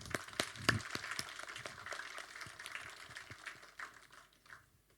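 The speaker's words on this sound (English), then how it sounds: "Let's give another big round of applause." A small audience claps after a presentation, scattered hand claps at low volume that start busy and thin out to a few last claps over about five seconds.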